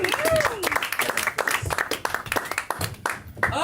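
A comedy club crowd applauds a comedian coming to the stage, steady clapping running under shouted voices and cheers from the room, with an announcer's voice audible over it.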